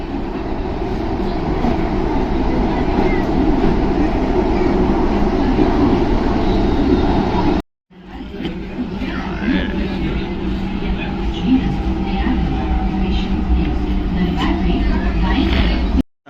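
Metro train running through an underground station two to three floors below street level, a loud steady rumble and rolling roar that breaks off briefly partway, then resumes just as strongly.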